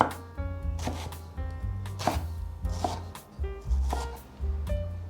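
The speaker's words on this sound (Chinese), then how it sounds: "把金针菇切碎" A knife chops enoki mushrooms on a cutting board in a home vegan kitchen, a close, steady run of firm knocks with a few short pauses.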